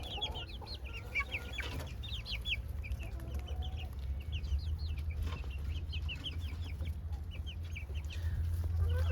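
Young chickens in a cage feed on a farm, giving a busy chorus of high, repeated peeps and chirps close by over a low steady background hum, with scattered pecking taps.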